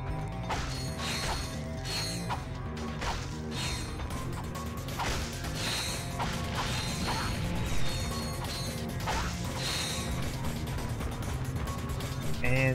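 Game sounds from Ratchet & Clank: Up Your Arsenal on PlayStation 3 as bolts are collected: a dense, steady run of metallic clinks, clanks and mechanical rattles over a continuous game soundtrack, with no pauses.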